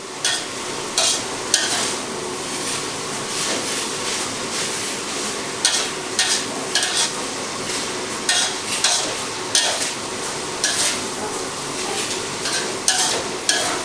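Cabbage filling for spring rolls stir-fried in a hot pan: a dense, loud sizzle broken by regular bursts of spatula scraping and tossing, repeating every second or so without speech.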